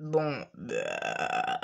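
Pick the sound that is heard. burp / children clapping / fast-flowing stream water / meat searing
burp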